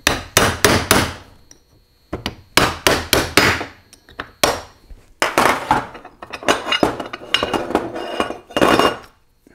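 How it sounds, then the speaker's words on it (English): A seal is hammered out of a Dana 300 transfer case retainer, giving loud metallic blows that land in quick clusters of three or four with brief pauses between, close up and with no talking. "what I'm going to do is just drive the seal out of the retainer"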